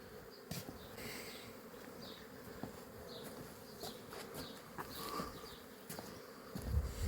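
Honey bees buzz around four backyard beehives on an overcast day. Individual bees drone close past against a constant soft hum of activity, and no one talks.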